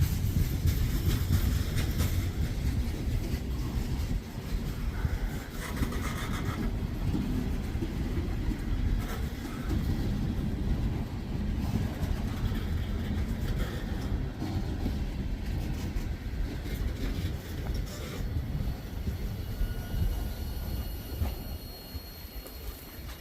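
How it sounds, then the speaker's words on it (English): A long, slow Wheeling & Lake Erie freight train rumbles past steadily, with rail noise and occasional wheel squeal carrying on throughout, no voices. "It's a pretty long train and slow."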